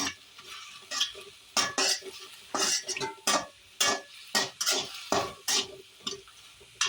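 Coriander leaves sautéing in a pan, with a steady spoon scraping and stirring in rhythmic strokes, about a dozen scrapes over a soft background sizzle, close and fairly quiet.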